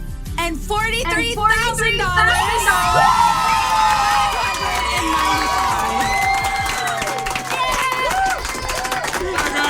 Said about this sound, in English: You can hear the crowd has gathered.